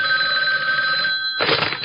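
A telephone rings with a steady bright electronic tone that cuts off abruptly into a brief burst of noise, close and loud, with no voices.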